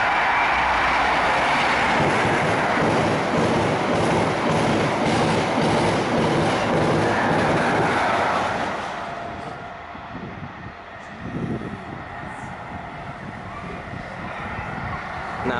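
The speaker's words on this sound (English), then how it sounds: "HST-led train about to pass through." An HST-led train passes through Doncaster station, a loud rumbling roar with rhythmic clickety-clack from the wheels that fades after about eight seconds into quieter station ambience and a few distant clanks.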